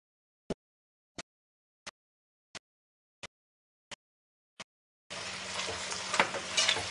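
Vegetables stirred in butter in a cocotte: seven sharp, evenly spaced clicks in near silence, then a short burst of close, dense sizzling and stirring.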